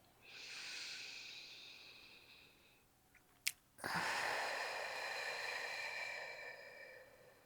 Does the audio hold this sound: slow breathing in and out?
yes